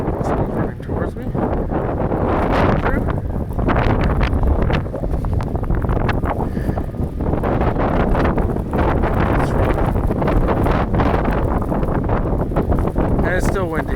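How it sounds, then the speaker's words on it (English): Strong gusty wind buffets the microphone on a city street after a snowstorm, a loud continuous roar and rustle that stays constant throughout. "And it's still windy."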